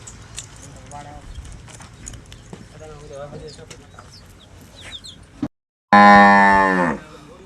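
Someone talks over farm background noise, then a dairy cow lets out a loud, close, drawn-out moo near the end.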